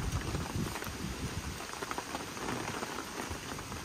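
Steady rain pours down during a heavy night rainstorm, a dense, even hiss of drops on surfaces with no break, no voices and nothing else standing out.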